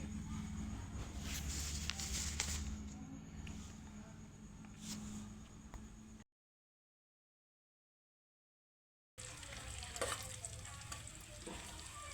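Chilli powder and flour frying in oil for egg pulao, a soft continuous sizzle with stirring scrapes and clinks, broken by a few seconds of complete silence before the frying resumes.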